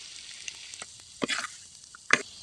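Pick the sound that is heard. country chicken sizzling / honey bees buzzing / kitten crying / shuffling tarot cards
country chicken sizzling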